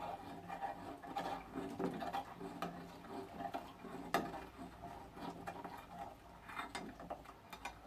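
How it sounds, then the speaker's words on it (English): A thick mixture of lard and poppy seeds gets stirred for homemade cold process soap, giving soft, steady scraping and rubbing strokes with occasional clicks from the utensil against the container, quiet and close with no talking. "Give it a good old stir."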